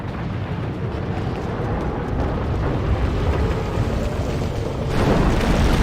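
A building shaking and rumbling in Max Payne 3, a continuous loud low roar with steady crackling texture that swells slightly near the end, no voices.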